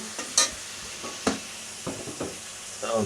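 Eggplant frying in a pan as the first step of a tengra fish curry: a quiet sizzle broken by several sharp stirring clicks and scrapes of a utensil, close up.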